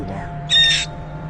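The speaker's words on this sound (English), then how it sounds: "Look at the screams, the high-pitched screams." A parrot near a cemetery lets out a single loud, harsh, high-pitched scream lasting about a third of a second. It stands out sharply against a low steady background hum.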